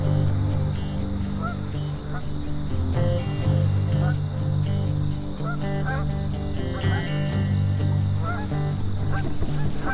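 A flock of geese on a pond honks continuously, many overlapping calls at varying distances, with a faint insect buzz beneath.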